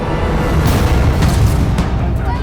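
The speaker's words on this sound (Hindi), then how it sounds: "अरे गोली चली" A loud gunshot-like boom in a Hindi true-crime drama scene, a dense blast of broadband noise filling the whole stretch with no clear separate reports.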